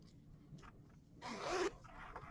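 A clothing zipper on a fly-front sewing sample is pulled in one quick, close rasping stroke lasting about half a second, with faint handling noise before and after.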